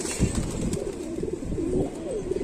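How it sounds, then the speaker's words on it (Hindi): A pair of golden pigeons coo in a loft, soft low throaty coos repeating in an uneven rhythm at close range, with no talking over them. "अब ये गोल्डन जोड़ा है जी। गोल्डन कबूतर है।"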